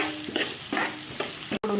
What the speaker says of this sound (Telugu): ఉల్లిపాయలు కూడా లైట్గా ఫ్రై అవ్వాలండి